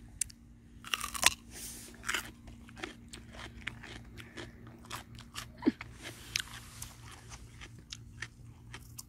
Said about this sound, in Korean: 발로 눌러가면서 씹어먹네.